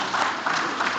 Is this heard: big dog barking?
no